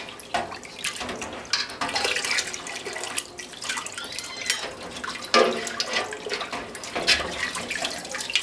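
Whey trickles and splashes out of goat mozzarella curds sitting in a colander, a steady close watery pour with intermittent drips and gurgles.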